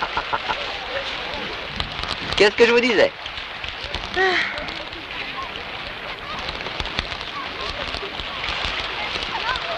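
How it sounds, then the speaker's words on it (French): Heavy summer rain in a 1962 French film makes a steady, broad hiss throughout, partly masked by people talking in French close by. "Parce que quand il pleut fort comme ça"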